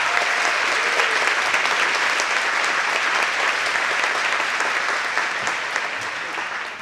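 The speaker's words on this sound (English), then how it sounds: "Round of applause." Sustained applause from an audience at an awards event fills the room, steady and dense throughout before tapering slightly at the close; no talking.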